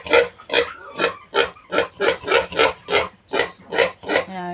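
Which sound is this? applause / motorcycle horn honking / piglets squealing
piglets squealing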